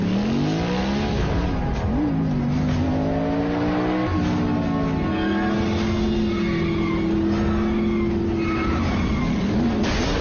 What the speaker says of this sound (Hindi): रेसिंग यही सड़क के पास